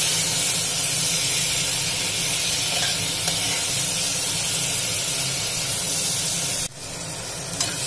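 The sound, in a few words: water added to hot pan of potatoes, sizzling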